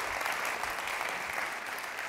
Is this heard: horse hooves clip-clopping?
no